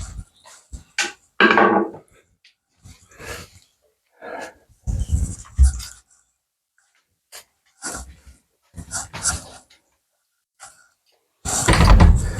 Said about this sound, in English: close the door, and see how it works